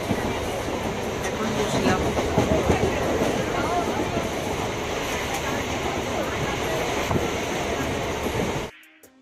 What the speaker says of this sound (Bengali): অনেক দিন পর ট্রেনে করে যাচ্ছি